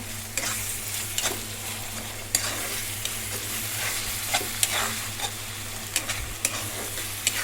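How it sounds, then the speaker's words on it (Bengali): A spice paste of ground onion, green chili, ginger, garlic and dried chili frying in a pan for an egg bhuna, with a steady close sizzle and sharp spatula scrapes and clicks recurring every second or so. "মশলাটা আমি কষায় নেবো ভালো মতো"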